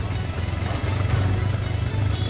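A motorcycle engine braking on a steep, winding mountain road in Laurel, Batangas, gives a continuous low drone that stays close and fairly even, with slight surges and a rushing wind-like wash over it.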